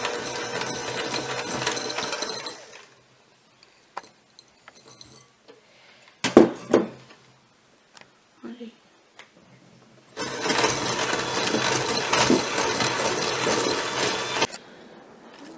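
Butter and brown sugar beaten for a Kerala-style plum cake batter, an electric mixer whirring loudly in two bursts with a quiet pause of scattered clinks between them.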